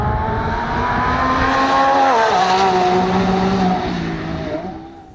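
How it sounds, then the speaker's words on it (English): A 2024 Lamborghini Revuelto hybrid supercar with a gas-powered engine and three electric motors accelerates hard, a loud close engine note climbing through its rev range and then dropping at a shift before fading as the car pulls away. "when the car is accelerating quickly, it should sound as loud as the flagships the brand has produced in the past"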